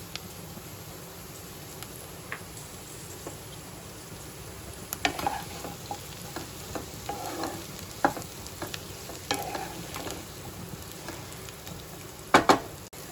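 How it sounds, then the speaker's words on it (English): Baby corns sauté in a hot pan for a mixed-vegetable hot garlic sauce dish, giving a faint, steady sizzle broken by scattered scraping stirs and clinks that sharpen near the end. "We just need to slightly saute them"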